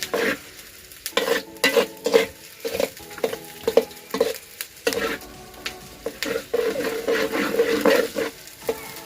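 Fresh turmeric roasts in a pan, a soft sizzle under repeated scraping and stirring strokes that come in irregular bursts, close by.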